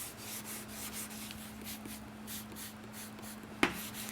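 A sanding block works wet sandpaper over primer on a car body panel during dent repair; faint, steady back-and-forth rubbing strokes with one sharp tap near the end.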